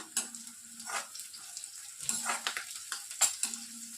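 Green chillies and ginger fry in a pan for restaurant-style chilli paneer, a soft close sizzle broken by stirring scrapes and light utensil taps, with a faint low tone recurring in the background.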